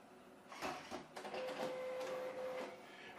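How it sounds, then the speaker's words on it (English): A wireless printer warms up and draws a sheet of paper in, giving a close, steady mechanical whirr with a sustained motor tone partway through. "printer is warming up here"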